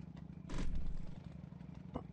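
A chopper motorcycle engine in the video game LAST DAY rumbles at a low idle with a clattering pulse, swelling briefly into a louder rev before settling back.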